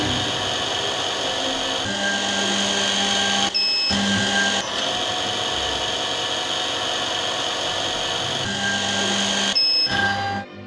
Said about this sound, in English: Press the lever to start drilling